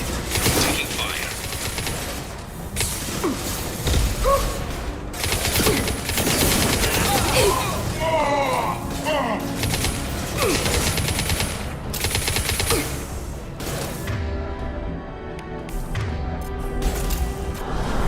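Dense, continuous automatic gunfire and impact crashes from a combat scene in a modded Mass Effect 2 Legendary Edition, loud and sustained throughout, with character voices calling out over the shooting.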